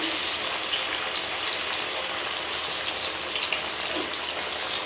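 Beef shami kababs fry in a pan over medium heat, giving a steady, dense sizzle with faint popping throughout and no voices.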